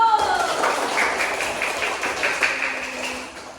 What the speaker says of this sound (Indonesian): Kasih tepuk tangan untuk kelompok 1.